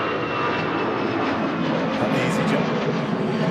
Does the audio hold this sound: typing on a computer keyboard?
no